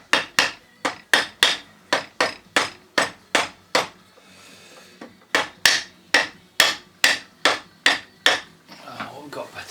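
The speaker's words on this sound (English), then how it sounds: "Let's use your little rubber hammer." Rubber hammer tapping parts of a Lucas 16ACR alternator from a classic Mini during bearing repair: a fast run of sharp, close knocks in steady rhythm, a short pause, then another burst of evenly spaced taps, with a little scraping at the end.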